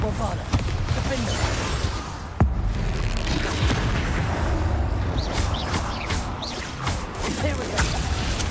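Spell blasts from Confringo and Bombarda in Hogwarts Legacy, a dense, continuous barrage of booms and crackling impacts with one sharp hit standing out, layered with busy game noise and voices throughout.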